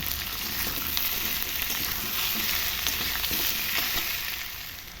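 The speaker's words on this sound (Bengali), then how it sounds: "নুন আর হলুদ দিয়ে কচুগুলোকে সুন্দর করে ভেজে নেব" Taro pieces fry with salt and turmeric in a pan, giving a continuous, fairly loud sizzle with light stirring scrapes and no talking.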